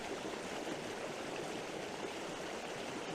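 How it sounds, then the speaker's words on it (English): A winter stream runs over a small waterfall, giving a steady, even rush of water, fairly soft and unbroken, with no other sounds. "that stream winding off into the background and turning. Nice little waterfall."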